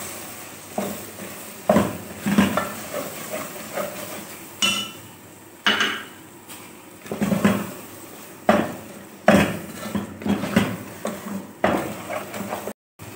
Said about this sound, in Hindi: आप देख सकते हैं अब ये भुनने लगा है, तो इसको हम भुनते जाएंगे।